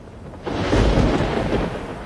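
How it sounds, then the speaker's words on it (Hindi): A thunderstorm rolls over a river in a narrated tale. A deep, loud thunder rumble breaks in after a brief quieter start and keeps up as a broad, heavy roar to the end, with no voices. "अचानक से दरिया में एक तूफान उठता है"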